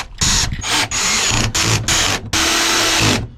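A power drill drives screws into a Keter Darwin 6x8 plastic shed, with several loud, close whirring bursts separated by short pauses, the last run being the longest.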